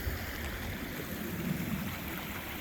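Steady broadband rush of seep water pouring into a roadside culvert in winter, continuous and fairly close with no pauses or voices.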